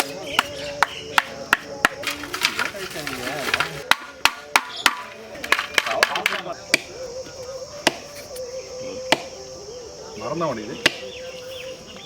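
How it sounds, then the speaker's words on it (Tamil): Dried coconut being cracked for kamarkattu, sharp separate knocks and cracks coming at irregular intervals, close and clear, with some talking and background clatter between the strikes. "தேங்காய் மரத்தெல்லாம் உடைக்கிறப்போ அது நல்லா காஞ்சி போயிருதுனால பேத்துன்னு வருது"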